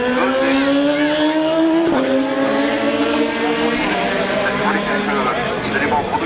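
Race car number 9 accelerates out of the Dunlop chicane, its engine note climbing, dropping sharply at a gear change and climbing again, loud and close, while a commentator talks over it.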